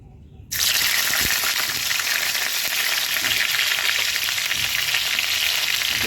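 Chopped chilies hit hot oil in a wok with a sudden loud sizzle about half a second in, then keep frying in a steady, close, crackling hiss with no talk over it.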